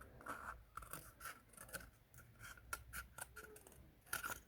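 Scissors cutting around a cardboard toilet roll, close quiet snips repeating in an irregular rhythm with light scraping of the card between cuts.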